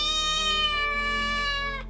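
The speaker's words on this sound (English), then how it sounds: "That's the biggest cat I've ever seen." A large cat gives a loud, sustained, drawn-out meow that holds steady for nearly two seconds before cutting off, with no voices present.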